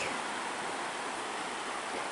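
Redbank Creek's water rushes steadily with a broad, even hiss, close and continuous with no talk over it.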